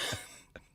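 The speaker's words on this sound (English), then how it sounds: "Pardon me for clearing my throat." A short, quiet throat clear from a podcast host at a studio microphone, with one low rasp and a second brief catch just after.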